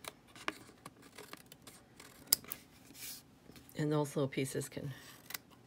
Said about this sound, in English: Then we're going to trim it. My snips are hiding under my paper.